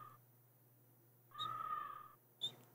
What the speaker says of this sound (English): Crow, I guess.